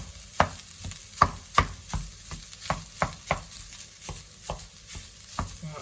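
Frozen plant-based mince being broken up in a frying pan for chilli: about a dozen sharp spatula knocks against the pan at a steady, slightly uneven rhythm, close and distinct, with a faint sizzle underneath.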